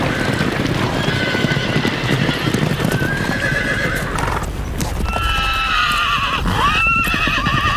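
Wild horses galloping with dense, rapid hoofbeats and loud, repeated whinnying and neighing in a busy outdoor scene.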